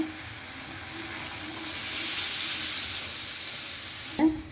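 Water gushes into a hot pot of beef and lentils with potatoes, a loud, steady hissing sizzle that swells and holds, ending with a brief clank.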